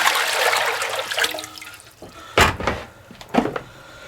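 Water runs from a tap into a pan in a home kitchen, a steady splashing stream that fades, followed by a couple of sharp clanks and a brief slosh.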